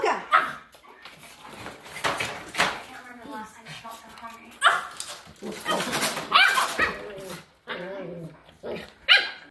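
Several dogs, Pomeranians and a Corgi, bark and yap in a busy indoor mix, the sharp barks overlapping with a person talking throughout.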